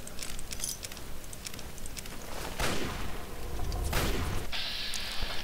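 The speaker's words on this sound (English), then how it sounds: "Stop shooting me, I'm trying to loot here." Gunfire from the game Fallout 3 crackles through the scene, several sharp bursts and shots at moderate distance, scattered irregularly over a noisy, rumbling backdrop.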